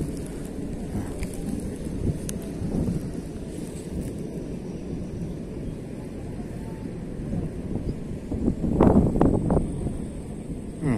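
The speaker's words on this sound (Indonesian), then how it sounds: "sekali kita mancing dalam keadaan angin gini ya." Gusty wind buffets the microphone during a fishing trip, a steady low rumble that swells louder near the end, with no clear voices.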